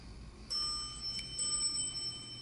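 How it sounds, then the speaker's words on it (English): Hospital elevator bell indicator chimes sound in a quiet elevator, with a couple of bright, high-pitched dings ringing over a low, steady background hum. "But I like those bell indicators."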